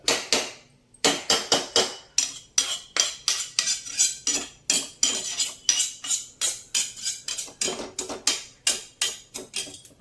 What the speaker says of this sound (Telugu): ఆనపకాయ టమాటో మెదిపి తాలింపు